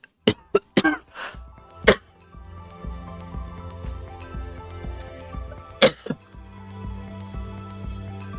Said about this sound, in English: So I'm like coughing up a lung right now.